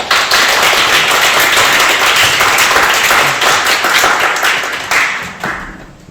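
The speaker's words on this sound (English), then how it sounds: "I give him a big applause" An audience at a lecture hall talk applauds to welcome a speaker onto the stage: dense, steady clapping from many hands that fades out toward the end.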